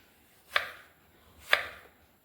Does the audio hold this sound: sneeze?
no